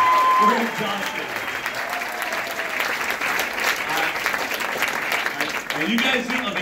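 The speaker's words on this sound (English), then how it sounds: "Let's give him one more round of applause" A crowd at a holiday extravaganza gives a performer another round of applause, sustained clapping at moderate volume with voices mixed in beneath it.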